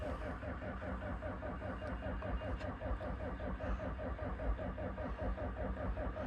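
A Bobcat 753 skid steer's diesel engine idles after a cold start in Florida, a steady, close mid-low rumble with an even, pulsing beat throughout.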